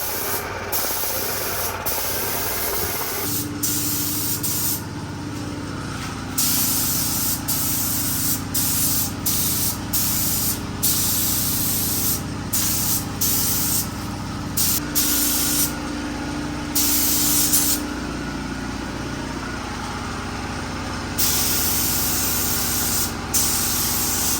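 A paint gun sprays a custom go-kart built to match an MX5, making a loud continuous hiss that runs unbroken for the whole stretch, with a lower compressor-like drone shifting partway through, no talking.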